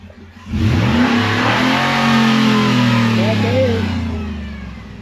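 A Ford Raptor's 6.2-liter SVT V8 revs hard, loud and close, climbing and holding a strong roar for several seconds before easing off slightly; a voice is briefly audible underneath.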